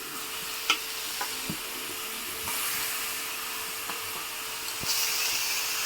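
Chicken pieces for mango dahi chicken dropping into hot oil in a pan, a soft steady sizzle with occasional faint clinks and stirring noises, fairly quiet and close.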